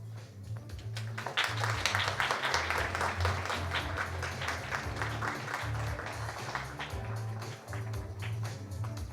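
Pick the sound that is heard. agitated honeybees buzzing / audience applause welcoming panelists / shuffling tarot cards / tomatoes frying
audience applause welcoming panelists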